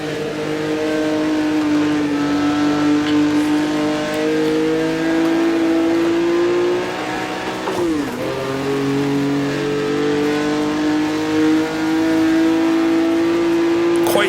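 A 1958 Formula One car engine in the racing game Automobilista drones loudly and steadily at high revs, briefly dropping and climbing again through a gear change or corner before holding its steady whine, with no speech.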